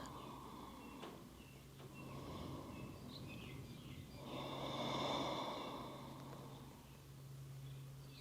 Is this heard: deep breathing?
yes